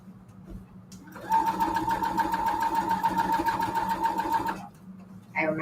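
A sewing machine stitches a seam on white fabric, running steadily for about three seconds with an even rapid whir, close and loud, after a quiet pause and before faint movement resumes.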